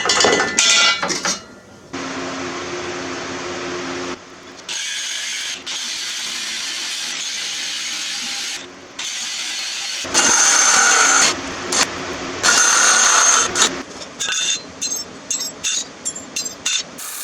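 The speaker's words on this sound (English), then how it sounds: "I think I'm about to cut this pulley off." Metal cutting on a mud mower build as a pulley is removed: harsh grinding bursts start and stop in uneven blocks, loud and close, ending in short choppy cuts.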